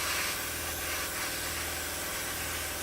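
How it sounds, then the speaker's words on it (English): Steady airbrush spray hiss while painting a Tamiya 1/32 F-16 scale model kit, a continuous close broadband rush holding level for nearly three seconds with no talk. "So we're spraying."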